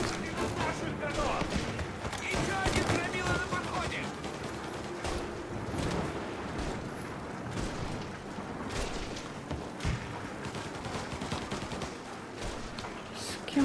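Sustained gunfire in Mafia Definitive Edition, dense volleys and bursts near a farm shed, continuous and loud throughout with a busy game soundscape underneath.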